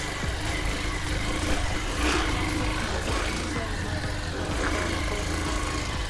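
A motorcycle rides along a rain-damaged dirt street in a housing subdivision of Itaberaba, Bahia, its engine a steady continuous drone throughout with rough low rumble and road noise, no voices.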